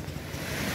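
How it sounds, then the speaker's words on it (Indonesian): Small waves washing onto the beach at Pulau Panjang on a morning high tide, a soft continuous surf wash with some wind rumble, close by and moderately quiet. "Suasana pantai di pagi ini pasang, ombaknya tidak terlalu besar"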